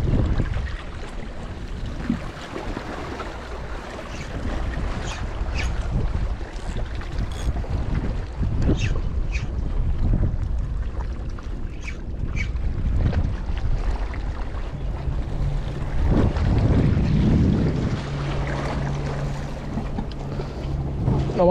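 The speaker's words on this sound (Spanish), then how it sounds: "Tengo un poquito de viento lateral, no sé si lo notaréis, que me sopla hacia la derecha." Gusty side wind buffets the microphone outdoors during an evening ultralight fishing session by the water, a loud, rumbling roar that swells and eases with brief faint clicks of tackle.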